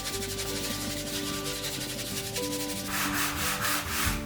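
A stiff brush scrubs back and forth over a wooden hallway floor, clearing away leftover varnish after scraping, a close, continuous rasping rub that grows a little brighter and harsher partway through.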